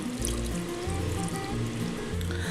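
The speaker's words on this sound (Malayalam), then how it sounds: "ഇനി ഇതിൻ്റെ മുകളിലേക്ക് കുറച്ച് തണുത്ത വെള്ളം ഒഴിച്ചു കൊടുക്കാം." Cold water poured over boiled potatoes sitting in a strainer, a steady close splashing trickle with a low hum underneath, no voices.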